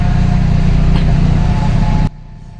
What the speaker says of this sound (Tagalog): Rinig nyo yun? Ibig sabihin, gumagana yung muffler na.